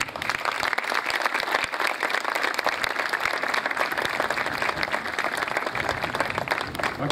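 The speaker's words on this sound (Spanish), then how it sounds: "brindarles un fuerte aplauso" Sustained applause from an audience at the inauguration of the RAAC center in Las Varas, a dense, steady wash of many hands clapping for over seven seconds with no pauses.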